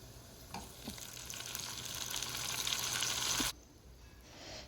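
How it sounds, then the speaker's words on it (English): Chopped onion browning in a hot pan, a loud dense sizzle with occasional stirring scrapes that swells, then drops abruptly to a quieter fry. "We will brown the onions a little bit"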